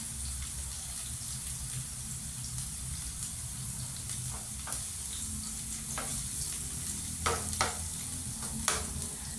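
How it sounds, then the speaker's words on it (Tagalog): Garlic and onion sautéing in a pan for chicken adobo give a steady low sizzle, with a few sharp scraping stir clicks near the end and no voices. "Habang ginigisa natin ang ating bawang sibuyas, ilalagay ko na ang patatas tsaka kamote para medyo ma-fry siya ng konti."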